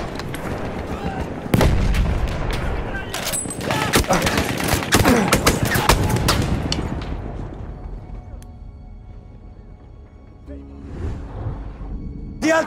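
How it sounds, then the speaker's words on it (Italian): Rapid bursts of machine gun fire and booming explosions fill a Battlefield 1 battle, dense and loud at first, then thinning out toward the end as the fighting eases. "Attenzione, mitragliatrice!"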